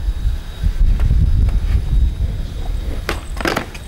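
Skateboard with stiff, fast trucks being popped, with low rolling rumble through the first half, then a few sharp tail-snap clacks near the end; nearby, no talking.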